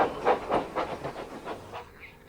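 Thomas the Tank Engine, a steam train in a Roblox game, chuffs in a steady run of rhythmic puffs of steam that fade out near the end, with no voices over it.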